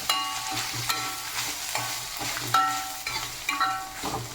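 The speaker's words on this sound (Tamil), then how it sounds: "தேங்காய் நல்லா சூடாக வறுத்துக்கலாம்." Lentils and grated coconut are stirred while they dry-roast in a pan for chutney powder. A close scraping and rustling of the spoon runs through the clip over a faint sizzle, with no talking.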